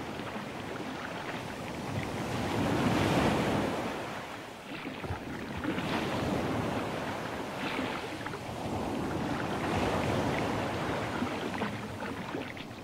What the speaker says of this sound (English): As the hours passed, the weather deteriorated. The wind became stronger